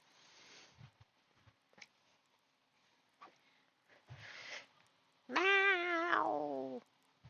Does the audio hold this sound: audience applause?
no